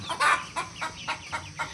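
Cemani chicken chicks at a poultry farm give a quick series of about six short clucking calls, evenly spaced and fairly close, with one louder call near the start.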